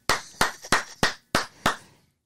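Six sharp hand claps ring out alone at a steady, slightly uneven pace, each a crisp broadband snap with a short decay, close and fairly loud with silence between them.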